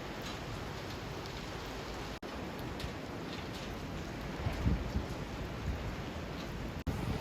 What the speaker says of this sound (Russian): Заливает ливень.